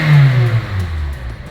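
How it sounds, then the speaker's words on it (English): A 2012 Kia Soul engine revving while being checked after a crankshaft position sensor change, a loud close-up rise in engine pitch that quickly falls back to a lower, rougher idle. "Now it's revving, guys."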